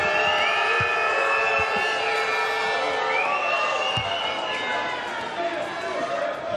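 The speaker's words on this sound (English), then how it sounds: "Now you hear the boos and the cheers from this passionate French crowd" A passionate French home crowd at a wheelcharis basketball repechage game against Canada, booing and cheering in a constant loud roar with whistles, heard under a commentator's voice.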